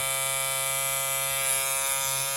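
A tattoo machine runs with a steady, high-pitched electric buzz that drones without pause, a constant mechanical hum close by.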